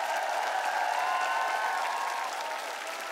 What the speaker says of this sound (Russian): Ну, и отдельные аплодисменты.